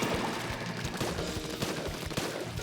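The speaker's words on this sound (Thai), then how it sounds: "อันนี้มันก็จะเป็นยิงระเบิดรัวนะครับ" Rapid bursts of explosive gunfire from the video game Splatoon 2, a dense run of sharp shots and booms that fill the whole stretch at steady volume, with no talking over them.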